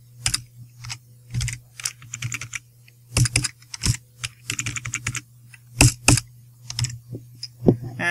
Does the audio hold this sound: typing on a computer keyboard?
yes